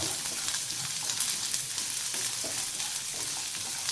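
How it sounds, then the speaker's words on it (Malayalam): Ingredients for a traditional Kerala roasted chutney stirred and fried in a pan on a medium flame, giving a steady, close sizzle with faint scraping from the stirring throughout. "ഒരു മീഡിയം ഫ്ലെയിമിൽ വെച്ചിട്ട് നന്നായി ഇളക്കി കൊടുക്കുക"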